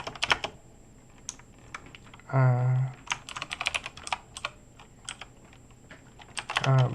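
Code is typed on a computer keyboard in close, irregular bursts of clicking keys, broken twice by a short hum from the keyboard or computer.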